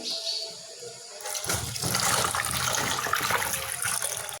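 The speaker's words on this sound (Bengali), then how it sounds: "আলুটা ধুয়ে নেই" Running water from a tap pours steadily over potatoes being washed in a home kitchen, starting softer and then gushing louder and fuller after a moment, close by with no talk.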